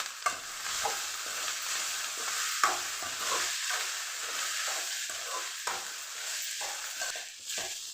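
Garlic rice being stirred in a hot pan, a steady sizzle under repeated scraping strokes of a spoon against the metal, close and continuous.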